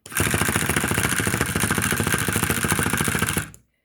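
A homemade Lego engine with its cylinder removed spins fast on a tabletop, giving a dense, steady mechanical whir and rapid clatter for about three and a half seconds before stopping abruptly.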